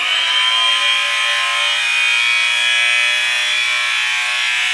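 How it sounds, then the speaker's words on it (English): A small benchtop cutoff saw spins freely with a steady, loud, high-pitched whine and no cutting, running evenly throughout. "so this is actually a little benchtop cutoff saw, and you can see it, I mean, it spins pretty good"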